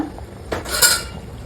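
A metal spoon clinks twice against a pot while fish curry with raw mango and fenugreek powder is gently stirred, short and close.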